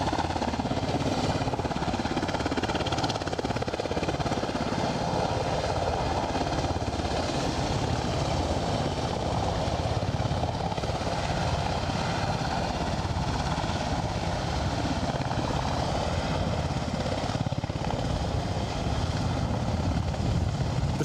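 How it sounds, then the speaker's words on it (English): A helicopter and a turboprop plane at Aberdeen airport give off a steady, even engine drone with a whirring rumble. It holds at a constant level throughout, with no talking. "Chopper and a turboprop."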